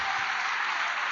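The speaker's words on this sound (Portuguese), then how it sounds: "Eu quero que você dê uma salva de palmas para Jesus," Church congregation giving a loud, dense ovation of clapping, sustained and even throughout a short burst.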